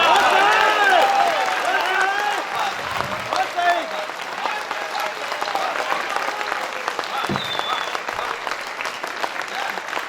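Sustained audience applause at a Hindi political rally speech, dense clapping filling the hall for ten seconds, with a few voices and whistles rising over it.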